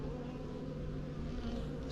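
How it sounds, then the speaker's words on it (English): Honey bees buzzing around an open hive during early spring beekeeping, a steady, close drone of many wings with no voices. "I'm just gonna shake those bees back in."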